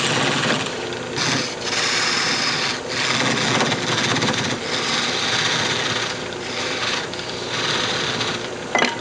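Wooden lidded box being parted off on a lathe: a steady, loud scraping and cutting noise runs continuously throughout, with slight rhythmic surges as the tool bites into the spinning wood.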